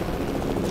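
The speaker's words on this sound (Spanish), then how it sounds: "Aquí está su helicóptero." A brief burst of helicopter rotor chop from the video game Fortnite, steady and fairly close.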